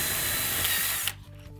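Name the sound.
power drill drilling hole in ceiling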